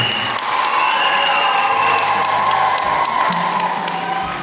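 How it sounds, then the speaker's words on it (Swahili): A large crowd of children claps and cheers at a church gathering, loud continuous applause mixed with shouts and whoops throughout. "Mpige makofi tena mkipongeza"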